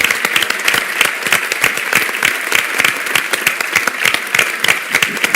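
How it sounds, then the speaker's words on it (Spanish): Sustained applause from an audience at a foundation event in Spanish-speaking Hispanic America, dense steady clapping with sharp individual claps throughout, loud and close, no talking over it. "Les voy a pedir un aplauso"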